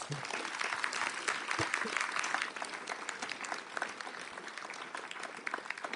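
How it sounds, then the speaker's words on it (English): An audience at a mayoral candidates forum gives a round of applause for the candidates, a continuous, even wash of many hands clapping that eases slightly partway through. "Let's have a round of applause, please, for the candidates."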